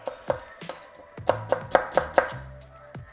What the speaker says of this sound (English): smashing it up a little bit just so it's easier in the blender to blitz